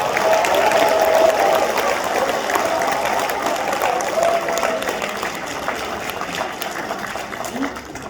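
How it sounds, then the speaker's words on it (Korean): Sustained applause from a crowd at a People Power Party members' rally with an appointment ceremony, a dense, steady clatter of clapping that fills the whole stretch and eases off slightly toward the end. "모두 다시 한 번 더 큰 박수 부탁드립니다"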